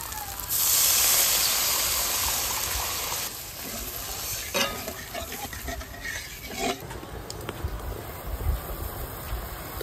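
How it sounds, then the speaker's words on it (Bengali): Water is poured into frying spice paste for a Bengali tengra fish curry, a sudden loud hissing burst of steam that gradually settles into bubbling and stirring, with a few utensil knocks later on. "জল দিয়ে দিচ্ছি।"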